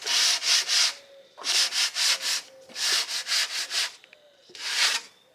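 A wood panel being sanded inside a VW Crafter van conversion, in five loud bursts of back-and-forth scrubbing with brief pauses between them, close by and with no talk.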